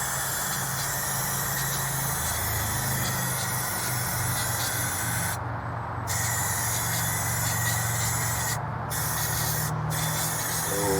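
Spray paint hisses from a rattle can fitted with a spray handle: a steady, close, broadband spray that cuts out briefly three times toward the end, over a low hum.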